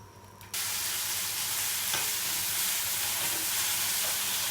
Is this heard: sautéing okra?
yes